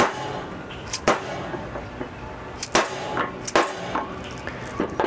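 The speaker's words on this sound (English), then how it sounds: "if you notice, the sound changed when the bearing's seated in the bottom" Sharp metallic hammer strikes drive a mower deck bearing into place through a large socket on a John Deere mower, about six loud clangs at irregular intervals, close by, with no talking.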